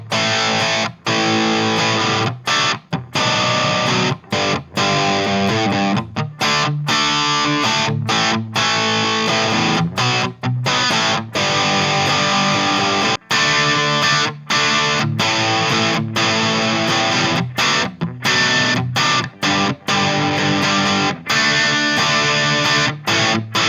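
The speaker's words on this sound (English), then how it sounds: "So this is what the Les Paul sounds like with some distortion on it." A Gibson Les Paul electric guitar played through heavy distortion, loud and sustained with rhythmic strummed chords and short choppy breaks throughout, no voice.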